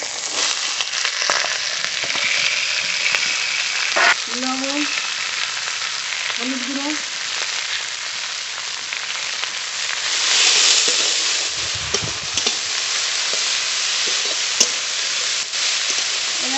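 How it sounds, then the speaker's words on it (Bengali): Pieces of catla fish fry in hot oil in a pan, a loud, continuous close-up sizzle that holds steady for the whole stretch, with a few faint tonal sounds in the background. "কাতলা ভাজা হয়ে গেছে নামিয়ে নেবো"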